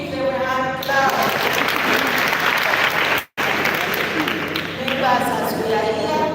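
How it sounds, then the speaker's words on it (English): Audience applause and hand clapping at a primary schools' debate final in a hall, a loud continuous wash of clapping with voices and cheering mixed in, briefly cut off midway before resuming. "We give them a hand clap."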